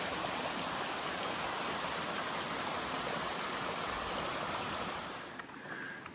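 Raglan Creek rushing over rocks on a bush walking track, a constant broadband wash of flowing water heard close and steady, easing slightly in the final second.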